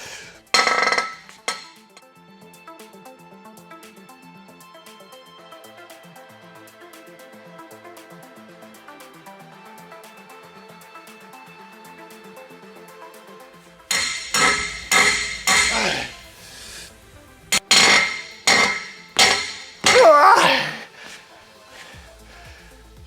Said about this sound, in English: I'm gonna put a pipe wrench on here and I'm gonna see if I can go a little bit more.